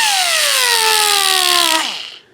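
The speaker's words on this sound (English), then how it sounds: "take my sanding disc and just gently rotated it around" A sanding disc grinding a 1967 Mustang metal door hinge: a high-pitched whining grind that slowly drops in pitch, then cuts off sharply and spins down to silence.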